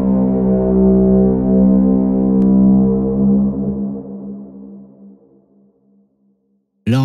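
A deep, heavily processed brassy braam drone, layered with didgeridoo, swells loudly, then slowly decays into silence before a brief sharp burst at the very end.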